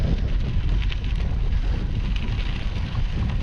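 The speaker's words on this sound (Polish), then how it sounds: "dzisiaj znów wieje ale dzisiaj to wiatr jest wskazany" Steady, loud wind buffeting the microphone beside the Ner river, a continuous low rumble with airy hiss and no pauses throughout.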